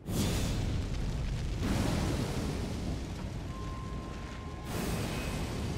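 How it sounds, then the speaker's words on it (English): A fire spell in Elden Ring slams into a target and explodes, a loud roaring blast of flame that rumbles heavily, dips briefly, then flares again before settling into a lingering fiery rush. "It goes until a wall or until it hits an enemy and then does a big explosion"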